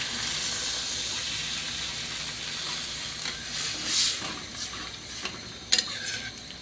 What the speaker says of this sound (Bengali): এজন্য দিয়ে দিব জল।